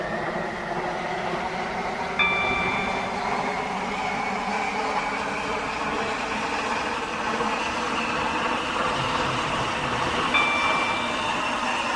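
A Class 345 train in Roblox Stepford County Railway runs at steady speed, a continuous loud rumble and whine of traction with faint wheel noise and brief high chime tones, no talk over it.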